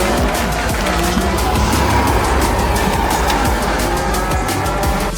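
Loud, continuous buzzing of several ProCart go-karts racing around a track during a six-hour endurance race, engines overlapping and rising and falling as karts pass close by, with faint crowd noise mixed in.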